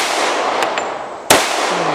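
A single sharp gunshot from a 1911 .45 Commander pistol fitted with a Schuemann Hycom barrel at a shooting range, loud and close, with a brief ringing decay and fainter distant shots before it.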